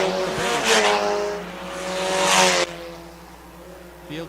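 Stock cars race around the 3/8 mile Park Jefferson Speedway, engines roaring loud and close as the pack sweeps past, the tone sliding with speed before a sudden drop as the cars pull away.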